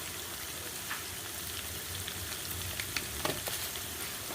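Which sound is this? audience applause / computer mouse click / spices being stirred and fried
spices being stirred and fried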